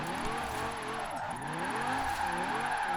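Lamborghini point-drift build driving in Forza Horizon 4, engine droning steadily with wavering revs and pitch sweeps as it slides, loud and continuous throughout.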